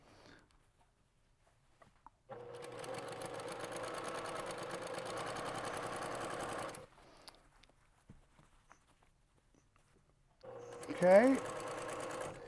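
Sewing machine stitching a seam into a fabric scrub cap, a steady whirring run of about four and a half seconds, then silence and a second short burst near the end, with a brief spoken word.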